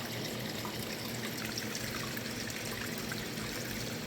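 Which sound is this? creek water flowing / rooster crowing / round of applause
creek water flowing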